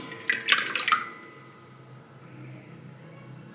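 A brief burst of thick curd splashing and dripping into a vessel, then fading to quiet background hum.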